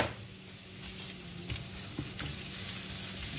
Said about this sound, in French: Dans une poêle bien chaude avec de l'huile d'olive, on va faire revenir l'oignon rouge.